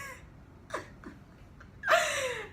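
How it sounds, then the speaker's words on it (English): A house cat gives a few short, faint meows indoors, followed by one longer, louder drawn-out meow, with quiet room noise between the cries. "that's my cat"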